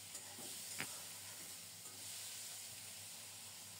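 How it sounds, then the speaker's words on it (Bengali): Peeled, diced potatoes and ridge gourd fry in a pan, giving a steady broadband sizzle throughout with a few faint clicks of stirring, close and even. "একদিকে আলু ভাজা হচ্ছে, আরেকদিকে ধুন্দুলগুলো ভেজে নিচ্ছি।"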